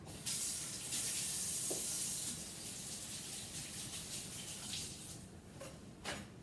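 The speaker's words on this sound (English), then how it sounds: "I'm going to wash my hands real quick." Tap water runs into a kitchen sink as hands are washed, a steady faint splashing stream with a few small knocks and shifts in the flow.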